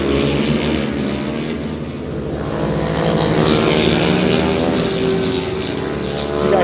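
Racing motorcycles on warm-up laps at Knockhill circuit in Scotland, a steady loud engine drone with rising and falling pitch as machines pass, continuous throughout with no talk.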